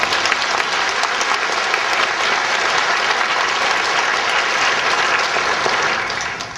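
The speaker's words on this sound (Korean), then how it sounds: "우리 뜨거운 박수를 하나님께 드립니다." A church congregation gives loud, sustained applause after a choir and orchestra performance, a thick, even wash of clapping that fades away at the close.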